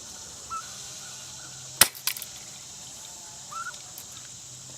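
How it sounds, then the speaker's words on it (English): A single sharp pellet gun shot cracks out close and outdoors, followed by a brief rattle, with birds and insects chirping faintly in the background. "And we're going to try the pellet gun."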